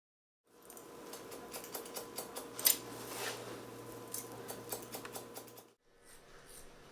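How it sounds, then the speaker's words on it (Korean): Salon scissors snip repeatedly in quick, light bursts up close, crisp metallic clicks with a faint hum of the room underneath. "경쾌한 가위질 소리가 끊이질 않는 미용실도"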